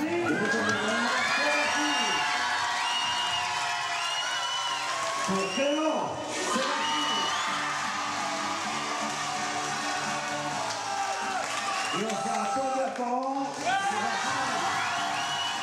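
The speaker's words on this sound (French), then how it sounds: "Une standing ovation qui le déclare vainqueur." A campsite crowd at a talent contest gives a standing ovation to the winner, loud sustained cheering, whoops and shrieking voices with bursts of shouting, filling the whole stretch with voices layered throughout.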